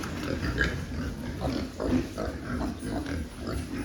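Farm pigs, a pen of about thirty fattening hogs at a feeder, grunt and oink in repeated close bursts over a steady low barn rumble.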